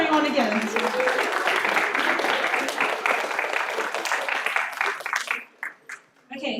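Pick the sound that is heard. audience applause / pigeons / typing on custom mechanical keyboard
audience applause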